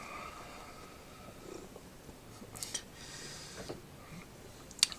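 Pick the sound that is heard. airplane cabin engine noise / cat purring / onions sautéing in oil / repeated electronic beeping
cat purring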